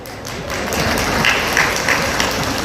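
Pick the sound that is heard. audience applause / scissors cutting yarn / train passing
audience applause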